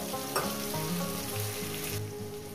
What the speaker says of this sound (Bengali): বাটি দেওয়া জলটা আমি দিয়ে দিলাম।